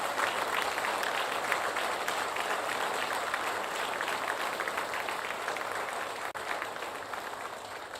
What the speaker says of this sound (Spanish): Suelta ese aplauso con fuerza